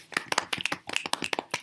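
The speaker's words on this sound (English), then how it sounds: "Round of applause." A small group claps in quick, uneven bursts at close range for about two seconds.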